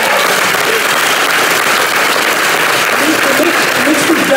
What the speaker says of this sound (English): It makes me very happy that you guys clap that up.